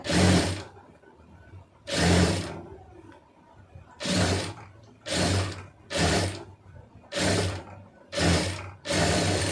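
Sewing machine stitching fabric in a tailoring session, loud and near, running in repeated bursts of rapid mechanical clatter separated by short pauses.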